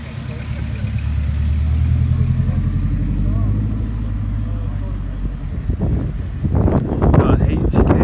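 A Honda Civic pulls away from a Wrexham car meet, its engine a low steady drone under wind buffeting, fading as it leaves while louder crowd noise and nearby voices rise toward the end.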